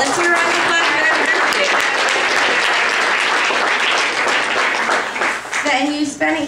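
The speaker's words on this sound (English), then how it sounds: "Let's hear a round of applause for your" A comedy club audience bursts into loud, dense, sustained applause for a couple celebrating their anniversary, the clapping holding steady before thinning out near the end as a voice comes in.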